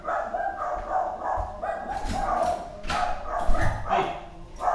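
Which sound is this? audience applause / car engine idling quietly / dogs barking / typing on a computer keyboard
dogs barking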